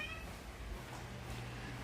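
A cat gives a short meow at the start, heard near a shop in Arkansas over a low background hum.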